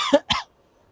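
Two sharp close coughs in quick succession from someone who has just bitten into a spicy green chili at a breakfast spot, then silence.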